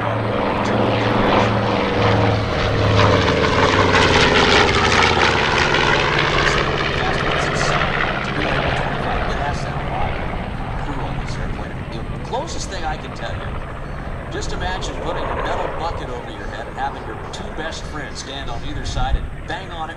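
The propeller engines of the B-25 Mitchell bomber Panchito drone loudly and steadily during an air show flight, heard from inside the aircraft with a voice talking over the roar.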